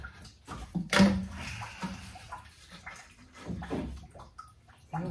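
Coolant drains from a slit radiator hose on a 1974 Plymouth Duster into a bucket, a faint uneven splashing and trickling with a sharper splash near the start and intermittent drips.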